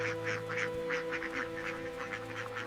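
A flock of magpie ducks on an American duck farm quacks in quick, repeated bursts as the birds return to shelter in the evening, heard close over a steady low hum.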